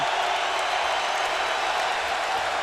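Basketball arena crowd roars after a made three-pointer at a college game, a steady, dense wash of cheering that fills the space evenly for a few seconds without breaks.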